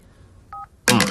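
Telephone keypad tones beep on a phone in a Telugu action film scene, a short two-tone DTMF press followed by a louder, longer dialing tone, close and clear with no talking.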